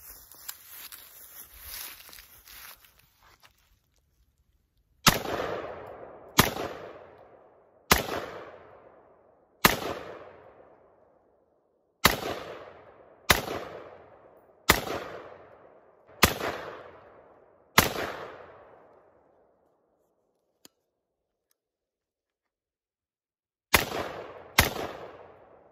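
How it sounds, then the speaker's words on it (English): Sharp single rifle shots from a customized RF-15 firing 5.56 rounds, about ten loud reports spaced a second or two apart, each with a ringing outdoor decay, a pause, then two more shots. "let's go ahead and shoot some stuff"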